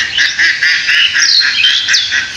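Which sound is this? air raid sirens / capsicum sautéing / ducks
ducks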